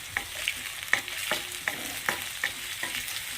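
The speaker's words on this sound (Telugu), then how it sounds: "బాగా ఫ్రై అవ్వండి" Onions and green chilies fry in a pan for a cauliflower and potato curry, with a steady close sizzle broken by rhythmic scraping stirs roughly every half second.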